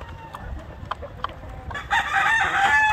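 Backyard chickens, a cross of Black Australorp and White Leghorn layers, clucking softly before a rooster bursts into a loud, close crow that fills the last second.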